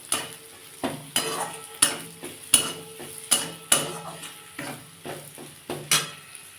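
A tomato chutney base being sautéed with turmeric and chili powder for a Bengali chutney, a spatula clanking and scraping the pan in a steady rhythm of about a dozen close, sharp strokes over a low sizzle.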